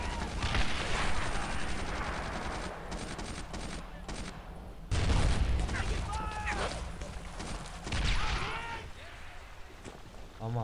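Gunfire in the World War II shooter Brothers in Arms: Earned in Blood, with dense rattling volleys and heavy bangs that run without a break under the action, loud and close, while someone shouts over the shooting.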